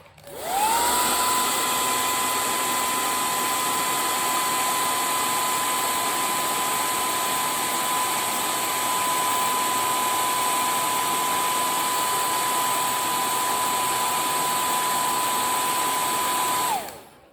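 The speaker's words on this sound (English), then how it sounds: "Okay, blow dry." A hair dryer blows steadily on a watercolor gradient bookmark painting, a loud continuous whirring hiss with a fixed whine that starts abruptly, holds unchanged for about sixteen seconds, then cuts off.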